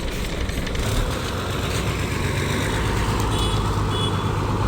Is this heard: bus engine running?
yes